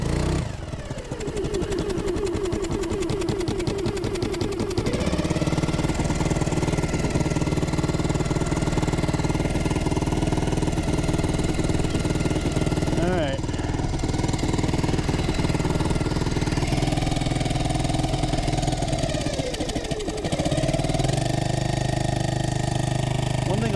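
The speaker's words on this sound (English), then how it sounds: "about this motor, it's loud, and it doesn't have reverse" A Honda 2.3 HP outboard motor on a Pelican Bass Raider boat runs loud and steady throughout, a close, continuous buzzing drone that shifts pitch a few times as the throttle changes.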